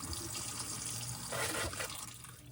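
Water runs steadily from a hot water tap inside an RV, a soft continuous hiss and splash with a brief swell in the middle, quiet and close with no talking.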